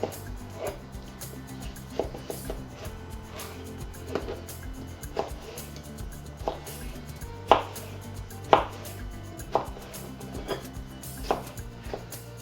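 A knife chops cucumber on a cutting board with steady, moderately quiet taps, and a few sharper knocks ring out near the end.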